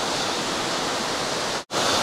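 A steady, full-bodied roar of falling water in the Olginsky waterfalls canyon in eastern Abkhazia, close and loud, broken by a single brief dropout near the end before the rush resumes.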